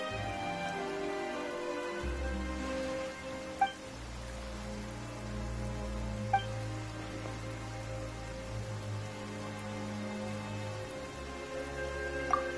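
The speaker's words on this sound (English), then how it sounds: "Why is it raining all of a sudden?" Soft, steady rain falls in the video game Genshin Impact, a faint even patter under sustained ambient tones, with a few sharper drops ticking through.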